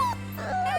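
A dog in a TV show gives a short high whimper twice, nasal and plaintive, over a steady low electrical hum.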